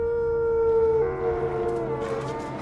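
Wolves from Twilight: Breaking Dawn Part 2 howl in a long mournful chorus of sustained, sliding tones, one voice dropping while others join, loud and up front with faint higher cries entering near the end.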